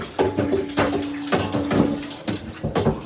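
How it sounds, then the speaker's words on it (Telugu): Water sprinkled by hand onto sarwapindi rice-flour dough pressed on a pan, a series of short wet splashes and patters in uneven bursts, fairly close and clear. "లైట్గా ఇట్లా వాటర్ స్ప్రింకిల్ చేయాలి"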